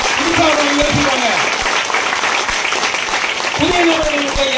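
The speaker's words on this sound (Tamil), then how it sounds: "பெரிய அப்ளாஸ், பெரிய கைத்தட்டல், மனப்பூர்வமான கைத்தட்டல்." A meeting audience claps in a steady, dense burst of applause that runs the whole length, while someone speaks loudly over it through a microphone.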